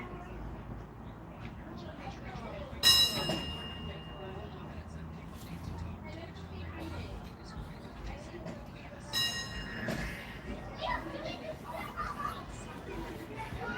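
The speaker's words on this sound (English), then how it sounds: "that's like a San Francisco streetcar bell" Bright metallic clangs like a San Francisco streetcar bell ring twice, well apart, over a steady background with people talking throughout.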